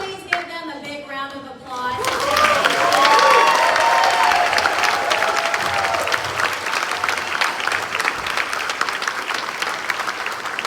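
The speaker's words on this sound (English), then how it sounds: "so will you please give them a big round of applause?" A crowd at a joint congressional district meeting in Arkansas breaks into loud applause with cheers and whoops. A voice speaks briefly before the clapping, which swells, then settles into steady clapping.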